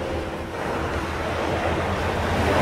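Sea surf washing onto the shore in a steady, continuous wash with some wind noise, moderately loud and building slightly toward the end, with no voices.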